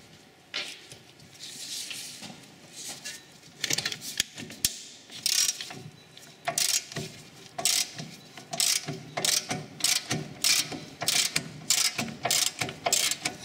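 Rapid ratcheting clicks from a socket ratchet as an 18 mm socket cracks off the rear brake carrier bolts on a Dodge Grand Caravan, coming in bursts of close, crisp clicking that grow more regular toward the end.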